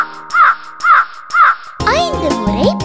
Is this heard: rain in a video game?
no